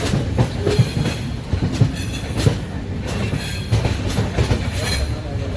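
The Mysore superfast express from Chennai Central to KSR Bangalore rolls along the rails with a loud, steady rumble and repeated rhythmic clickety-clack of wheels over joints, plus faint metallic squeals.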